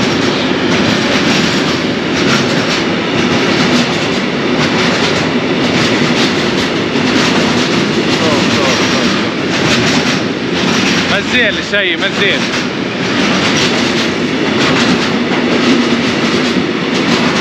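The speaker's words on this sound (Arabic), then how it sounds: "نشوفوا الترام هذا بتاع نقل البضائع" A freight tram in Italy rolls past close by, a loud continuous rumble with rhythmic clacking wheels and a brief squeal midway, while someone speaks over it.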